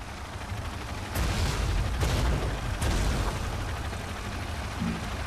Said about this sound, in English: Explosions inside the refinery compound.